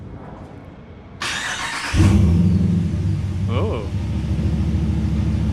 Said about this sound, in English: gonna start the truck with no muffler on